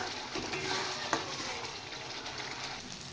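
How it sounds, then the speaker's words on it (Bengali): Spice paste with salt, turmeric and dry chili powder stir-fried in a pan, giving a faint, steady sizzle with one brief utensil scrape partway through and no talking. "এবার মশলাটা একটু ভালো করে কষিয়ে নেব। নুন, হলুদ আর শুকনো লঙ্কার গুঁড়ো দিয়ে দিয়েছি"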